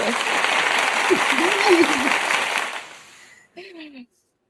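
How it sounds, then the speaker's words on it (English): Applause from an audience, dense and steady for about three seconds, then fading away as a voice speaks briefly near the end. "Clapping."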